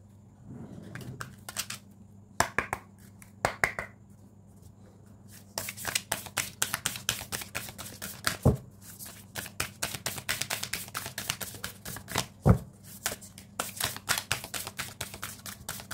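Tarot cards are shuffled close by, first a few separate riffles and taps, then a long run of rapid crisp card flicks and slaps, quiet and with no talking.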